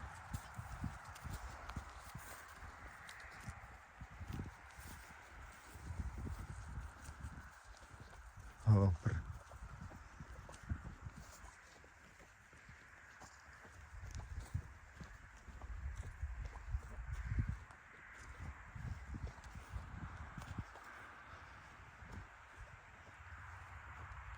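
Mares from Poland walk on firm ground, their hooves clip-clopping in steady irregular steps that come nearer and fade over a long stretch. Occasional rustling and a brief sharp knock are heard, and people talk quietly at times.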